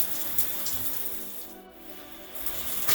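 Water sprays steadily from a RainSpa 3-way shower head, a close, continuous hissing rush with a brief dip in the middle before the spray swells back to full strength.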